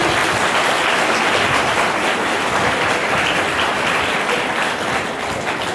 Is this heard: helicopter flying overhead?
no